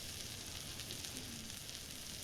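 Steak cooks on a small electric griddle grill, giving a faint, even sizzle that runs steadily with no other sounds.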